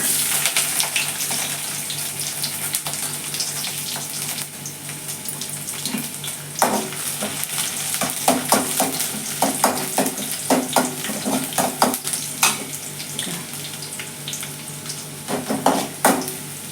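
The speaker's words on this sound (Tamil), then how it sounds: "இப்போ பூண்டு சேர்க்குறேன்." Garlic fries in oil for a drumstick coconut milk curry with a steady broad sizzle, and scraping clatters of stirring become more frequent toward the end.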